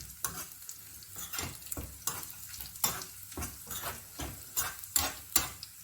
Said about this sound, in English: we want this onions, the shallots to get nice and brown